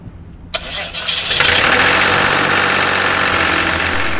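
A diesel engine on a light aircraft cranks with a sharp click and catches, rising within a second into a loud, steady running roar that holds to the end.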